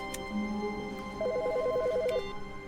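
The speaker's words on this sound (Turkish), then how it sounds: "Hangi telefon çalıyor?" A telephone rings in the video game The Stanley Parable, one warbling electronic trill lasting about a second over a quiet ambient game background.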